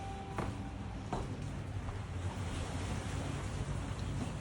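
Ocean surf beside an overwater villa at the Sheraton Maldives, a steady broad wash of waves mixed with wind buffeting the microphone, with a couple of faint knocks early on.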